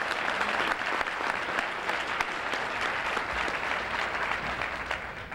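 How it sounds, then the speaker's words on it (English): Sustained applause from an audience at the 2012 Louisiana Education Summit, a steady dense patter of many hands clapping at even loudness for several seconds with no speech over it. "Let's give Steve another round of applause for his great work."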